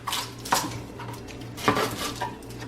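Onions going onto a hot plate pan, mostly heard as clattering metal utensil scrapes and clinks against the pan, a few distinct knocks over a faint background hum.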